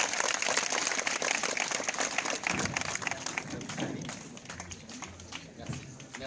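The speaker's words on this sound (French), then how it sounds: "Vos applaudissements" Applause from a school crowd at a project launch day in a Senegalese college, dense clapping that starts loud and slowly thins, with voices and a speaker talking over it.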